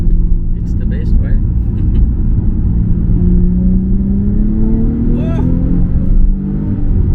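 A Nissan 350Z HR's V6 drones loudly from inside the cabin, pitch climbing steadily under load, with a brief exclamation from the driver over the engine.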